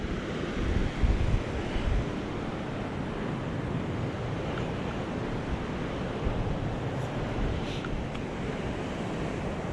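A river near the Melmont ghost town rushes in a steady, unbroken wash of flowing water, with occasional wind buffeting and no voices.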